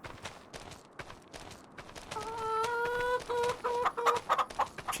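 Chickens clucking and squawking in Farming Simulator 25, a dense barnyard chorus with rising, overlapping calls, one sustained tonal squawk in the middle, and scattered short clucks throughout.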